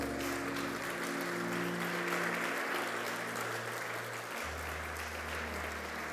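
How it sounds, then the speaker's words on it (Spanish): A church congregation breaks into strong, sustained applause for the Lord, dense clapping throughout with a low sustained organ or keyboard tone underneath. "¿Por qué no es un fuerte aplauso al Señor?"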